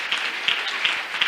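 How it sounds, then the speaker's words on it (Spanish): Church congregation applauding in praise during a Spanish-language evangelical service, a steady, moderately loud wash of clapping with small swells, lasting a little over a second. "Dale un aplauso a Dios."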